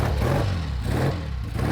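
A Triumph Speed Twin motorcycle engine fires up on the first kick and settles into a steady, close, loud running rumble with a slightly uneven beat.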